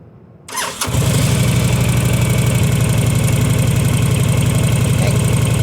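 Motorcycle engine catching and jumping from a quiet start to a loud, steady close-range running note as the clutch is let out with no throttle, holding an even rumble throughout.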